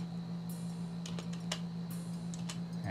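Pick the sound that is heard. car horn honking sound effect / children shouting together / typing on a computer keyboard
typing on a computer keyboard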